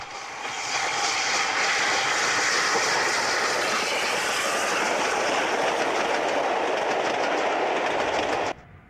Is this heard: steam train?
yes